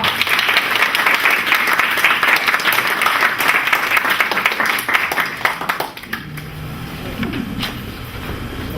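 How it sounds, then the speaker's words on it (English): A crowd applauds to welcome yoga presenters at a yoga dancers performance, with full, dense clapping for about six seconds that then drops to lighter scattered claps under a low hum of voices and room noise. "let's welcome them with a big round of applause"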